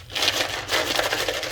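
Small tarot charms being shuffled give a rapid, continuous clatter and rattle up close, with bursts of jingling knocks over a second and a half.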